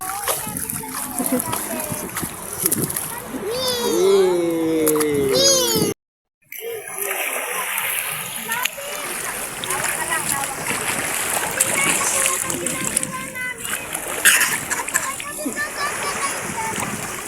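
Water splashes and sloshes continuously as people play in the sea, with children's voices and chatter mixed in and a brief dropout in the middle.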